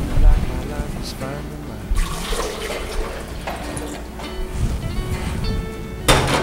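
Hot water pours into a blender jar with a sloshing, gurgling splash that comes in bursts, while someone speaks throughout.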